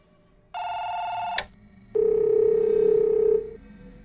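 Another telephone in the Chinese horror game Firework gives a short high electronic ring, then pauses and sounds a longer lower steady tone, both loud and clear with no voices.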